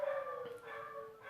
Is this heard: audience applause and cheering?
no